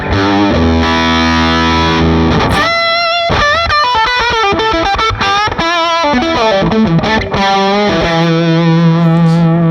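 A loud, heavily overdriven electric guitar through a Klon overdrive pedal plays sustained chords and bending notes, thick and saturated, with no talking.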